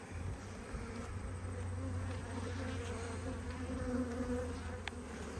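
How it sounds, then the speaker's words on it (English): Dense, steady swarm of honey bees droning around an opened backyard hive with comb pulled off, a continuous close buzz filling the whole stretch without voices. "Pulled off a fair bit of that comb. And a lot of bees."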